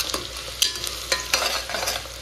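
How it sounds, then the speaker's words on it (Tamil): Onions sautéing in a pan for a spicy dried-fish curry, a steady sizzle with a few sharp scrapes of a spoon stirring them, close and moderately loud, with no talking. "இப்போ வந்து நம்ம நல்லா கோல்டன் ப்ரௌன் வர வரைக்கும் வதக்கிக்கலாம்"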